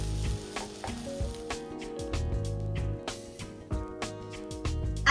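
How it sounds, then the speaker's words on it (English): Mushroom fried rice tossed with crushed black pepper in a pan, sizzling steadily as a spatula scrapes and clacks repeatedly against the metal in quick, uneven strokes, close up with no talking. "add in some crushed black pepper. Mix together"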